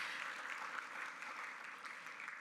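An audience at a regional symposium gives a round of applause, a quiet, distant, even patter of clapping that stays steady throughout.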